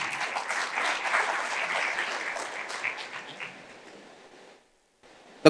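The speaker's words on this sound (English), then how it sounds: "please, a round of applause for them, please" A conference audience at a mining technology summit applauds, a broad wash of many hands clapping that gradually fades out, then a brief silence and a sharp bump at the end.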